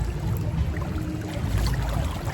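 Water sloshing and flowing along a lazy river at a Dominican Republic cruise port, a steady low churning wash with faint splashes, close and continuous, no voices.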